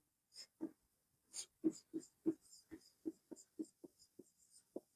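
A pen scratches out a maths solution in short, separate strokes, an irregular run of quiet, close scrapes and taps with nothing else around.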